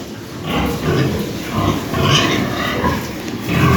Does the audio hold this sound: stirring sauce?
no